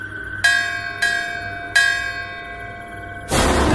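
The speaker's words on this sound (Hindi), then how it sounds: "लेकिन तभी दूर से मंदिर की घंटियां बजने लगी।" Temple bells ring from a distance in three separate strikes, each a bright metallic clang that rings on and slowly fades, followed by a burst of noise at the end.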